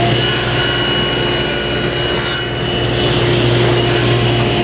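Table saw with a miter gauge crosscutting a wooden board, a loud steady whine of the spinning blade and motor with a continuous rough cutting tone, close and uninterrupted with no voices.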